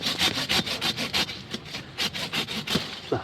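A hand saw rasps through lemon tree branches in quick, even back-and-forth strokes, close and fairly loud, with short pauses between runs of strokes.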